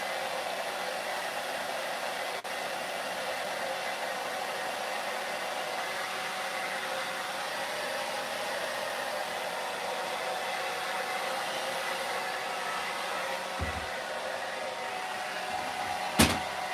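Heat gun blowing steadily on milk-painted wood, a continuous broadband airy roar held at even loudness throughout, with a brief clunk near the end.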